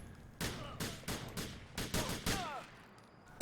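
Repeated gunfire from three shooters in GTA 4, a string of sharp, loud shots in uneven bursts across the whole stretch, some with ricochet-like whines, and no talking.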